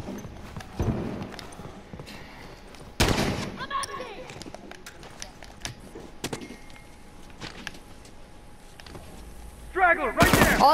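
Gunfire in The Last of Us Remastered multiplayer, with loud broadband shots bursting at intervals, including heavy blasts near the start and end, over steady game ambience.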